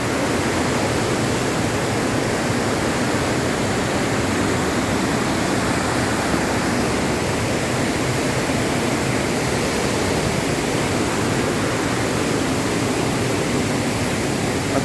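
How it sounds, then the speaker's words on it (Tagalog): Rain-swollen water rushing out of an opening at Wawa Dam in Rodriguez, Rizal: a loud, unbroken roar of torrent that stays constant and close for the full fifteen seconds with no voices. "May tubig na magmumula dun sa butas na yon."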